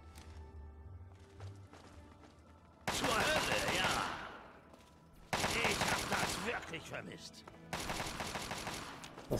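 Gunfire in the Fallout 3 video game, three long loud bursts of rapid automatic shots separated by brief quieter gaps, close and dense.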